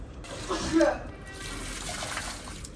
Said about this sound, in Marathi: असं झाडाला पाणी टाकलेले.